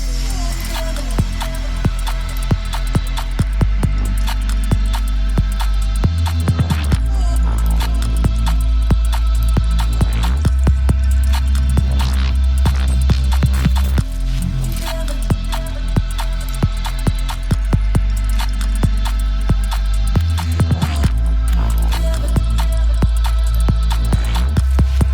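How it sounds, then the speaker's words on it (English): TIG welding on turbo hot side parts for an LS turbo build, a steady continuous hum and buzz with a few brief breaks where the arc stops and restarts, alone without talk. "Okay, so I got this one welded."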